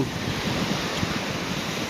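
Wind and breaking surf at a roadside beach near the Sarasin Bridge toward Phuket, a steady broadband roar of waves with gusting wind buffeting the microphone, no voices.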